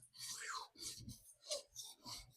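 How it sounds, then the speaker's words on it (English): A Monterey Bay Sabertooth knife is drawn across a TSProf diamond sharpening stone in about six rhythmic rasping strokes, each a short close scrape separated by brief pauses, quiet overall. "if you're willing to sit there and mindlessly watch me sharpen this knife"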